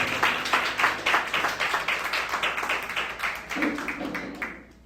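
A church congregation claps in a fast, rhythmic beat that is close and moderately loud, then thins and fades out near the end.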